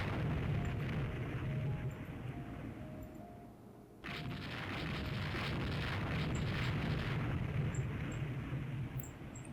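Naval gunfire from Rule The Waves 3, an 1898-era German Empire fleet battle, rendered as a continuous roar of rumbling booms that briefly drops away about midway before surging back, with no voices.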